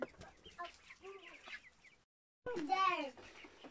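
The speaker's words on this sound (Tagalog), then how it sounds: "Nandito kami guys sa kamanukan namin." Chickens in a backyard coop cluck close by in rising, chattering bursts, with a brief silent gap before a louder run of calls.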